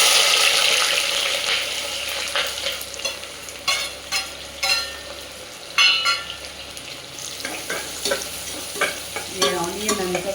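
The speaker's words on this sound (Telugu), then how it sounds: "ఇప్పుడు ఆయిల్ వేడైన తర్వాత నేను ఆనియన్ వేస్తాను" Long, thinly sliced onions hit hot oil with a loud burst of sizzling that gradually settles, while a spoon stirs and scrapes through them in short bursts over a continuing fry.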